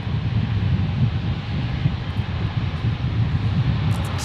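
A QantasLink Embraer jet arriving from Gladstone at Brisbane Airport gives a steady, broad engine roar that holds at an even loudness throughout, with some wind rumble and no talking.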